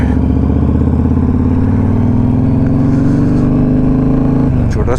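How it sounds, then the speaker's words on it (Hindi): A vehicle engine runs steadily and loud throughout, a low droning hum as a car pulls up nearby, with no clear talk over it. "खान साहब की गाड़ी आ रही है।"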